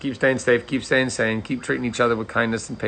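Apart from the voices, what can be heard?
None of the usual background noises is heard.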